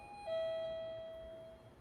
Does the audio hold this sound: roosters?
no